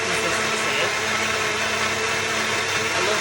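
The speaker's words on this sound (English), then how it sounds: "I love using my blender" A kitchen blender whirs steadily and loudly while pulsing a smooth sauce for homemade pizza, its motor holding a constant buzzing drone for a few seconds with no break.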